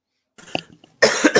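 Coughing up close: a short faint burst of coughs, a pause, then a louder, harsher run of coughs.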